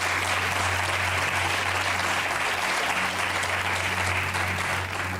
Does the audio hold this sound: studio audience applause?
yes